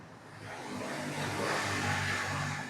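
A CFMOTO 450MT adventure motorcycle engine starts and settles into a mid-pitched idle hum that rises slightly, close and steady, with no talking.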